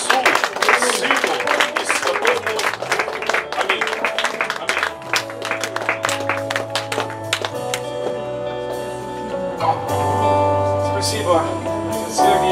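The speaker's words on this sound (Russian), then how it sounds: "Аплодисменты великому Богу" Congregation applause during a church service in Saint Petersburg, a burst of scattered clapping that thins out as organ or keyboard chords sustain beneath and carry on alone.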